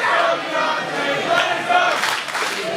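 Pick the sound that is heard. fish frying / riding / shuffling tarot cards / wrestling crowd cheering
wrestling crowd cheering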